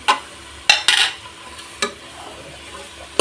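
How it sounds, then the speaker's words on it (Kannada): Medium-sized tomatoes fry in oil for vegetable palav and are stirred in a pan: a soft, steady sizzle broken by several sharp scraping stirs of the spoon against the pan, close by. "ಇದೆಲ್ಲ ಎಣ್ಣೆಲೆ ಸ್ವಲ್ಪ ಚೆನ್ನಾಗಿ ಹುರ್ಕೊಳ್ಳೋಣ."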